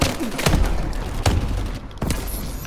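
The MDL grenade launcher fires in Call of Duty: Advanced Warfare, producing a few heavy thumping booms spread over a couple of seconds amid dense game noise, close and loud.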